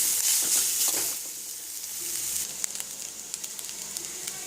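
Grated coconut and carrot roasting in a hot pan for carrot chammanthi, a soft continuous sizzle with a cluster of stirring scrapes at the start and a run of quick spoon clicks toward the end, close by.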